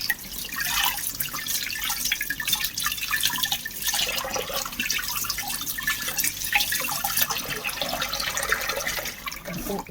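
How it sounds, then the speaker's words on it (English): Homemade butter is worked and washed under cold running water, with a steady close splash and trickle of water over squelchy handling, running throughout without talk. "washing the buttermilk out of it with the cold water"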